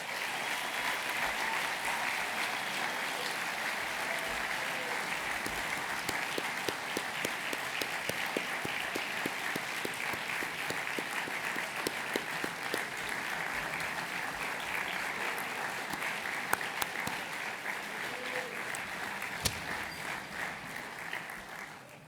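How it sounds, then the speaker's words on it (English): Sustained audience applause at a farewell tribute event, dense and steady for about twenty seconds with only faint voices underneath. "Could I ask you all to join me in a round of applause for Lee?"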